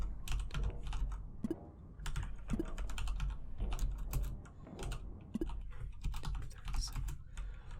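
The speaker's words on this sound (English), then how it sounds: "I was typing the wrong one the entire time" Rapid, irregular clicking of a computer keyboard during a Duskers game session, close to the microphone, in short bursts with brief pauses and no voice.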